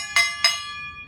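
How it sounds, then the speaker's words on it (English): A metal gong and a tin can are struck one after the other, two bright metallic clangs about a quarter second apart, each ringing on and fading slowly in a quiet room. "the gong and the can sound the same"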